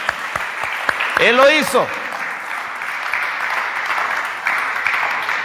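Church congregation clapping in a steady broad wash behind a preacher's loud voice speaking in Spanish, with a sung or drawn-out vocal phrase rising briefly near the start.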